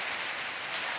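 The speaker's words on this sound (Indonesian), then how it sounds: "hari ini adalah lagi mendung guys, hujan guys" Rain falling steadily at the Tangkiling nature park on an overcast day, a dense, even hiss of drops with no gaps and no voices.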